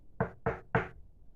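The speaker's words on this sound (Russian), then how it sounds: "А теперь отгадай, кто сейчас стучит." Three evenly spaced knocks on a door, firm and close, each a short hollow thud, in a quiet room.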